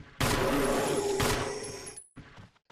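Rapid gunfire from the Resident Evil HD Remaster video game, a loud, dense burst of shots filling about two seconds before cutting off, followed by faint quieter game sounds.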